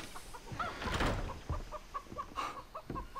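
Chickens clucking outside an old house in the video game Far Cry 3: a string of short, close, rhythmic clucks and squawks with a brief louder burst early on.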